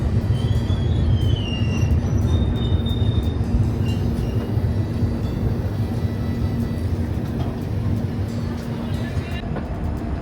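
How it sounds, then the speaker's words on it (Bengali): A passenger train pulling out of Lucknow station, heard from on board as a loud continuous rumble and rattle of wheels on rails with a steady low hum and faint squeals, voices murmuring underneath. "লখনৌ স্টেশন থেকে এখন ট্রেন বেরিয়ে যাচ্ছে।"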